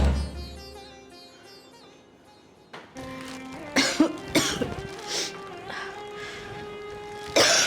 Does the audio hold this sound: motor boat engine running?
no